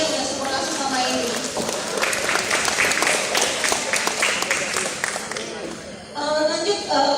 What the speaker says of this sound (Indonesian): Tepuk tangan dulu dong buat teman-teman media yang sudah support aku selama ini